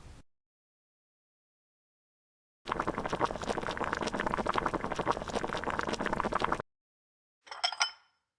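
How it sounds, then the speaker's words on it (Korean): Ramen noodles boiling in a pot indoors: a steady bubbling, seething roll that runs for about four seconds before cutting off, followed by a short clink of a utensil or lid, with silence around it. "내가 끓여줄게. 나 라면 잘 끓여."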